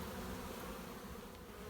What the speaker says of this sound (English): There's all the bees going in there now.